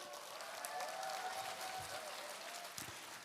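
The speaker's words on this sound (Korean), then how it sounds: "박수로 인사드립니다" Quiet applause from an audience at a company business presentation, a soft even patter of clapping heard from a distance, with a faint steady tone and brief voices beneath.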